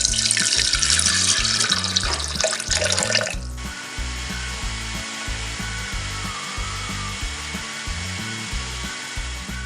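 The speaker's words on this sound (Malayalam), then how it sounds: "ഇതിലേക്ക് 1 കപ്പ് വെള്ളം ഒഴിച്ച് നല്ലപോലെ അടിച്ചെടുക്കാം." A kitchen mixer blends curd, carrot, salt and water with a loud, close mechanical whir and grind. The noise is harsh for the first few seconds, then settles into a steadier, pulsing drone, with no voices.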